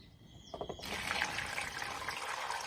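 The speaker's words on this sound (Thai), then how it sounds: "ก็เลยตักน้ำมานี่" Water being scooped at a rural Lao home: a soft knock, then a steady splashing, pouring rush of water that continues close by with no voices.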